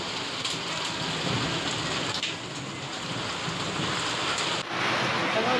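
Steady unseasonal rain pours down in Pune, a dense, even hiss of drops striking surfaces that continues without a break, close and fairly loud, with no voices over it.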